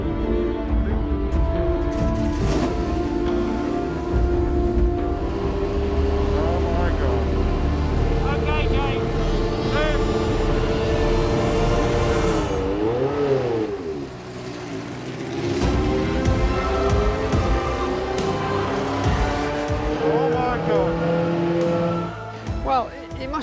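A classic racing car laps the Monza circuit, its engine howling loud and close through rising and falling revs, with a few dips as it brakes and accelerates again; talk runs over the engine throughout.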